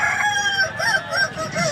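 A short-legged Kukuak Balenggek rooster of the rendah batu class crows at a contest in Padang, a loud, close call with several stepped, wavering syllables in a row and no talk over it.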